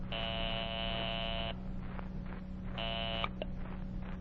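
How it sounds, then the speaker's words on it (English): A telephone ringing tone on a 1949-era call line gives two long buzzing rings separated by a pause, faint under a constant low mains hum. "I am ringing Count Fouquet Bernadotte's office in Jerusalem, sir."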